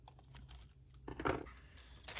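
Paper for a collage wood box is cut in a few quiet, brief snips and crinkles, with a sharper burst of cutting midway and another near the end, close by and without speech.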